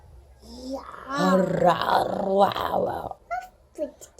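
A person imitates a tiger growl with a drawn-out, rough voiced roar lasting a few seconds, made for a child while reading a picture book about animal sounds, close and fairly loud.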